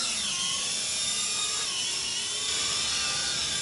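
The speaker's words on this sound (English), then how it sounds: "Just hold the takeoff button and it'll take off by itself." Metakoo X300 quadcopter drone taking off and hovering, a steady high-pitched whine of spinning propellers and motors that holds close and loud throughout with little change.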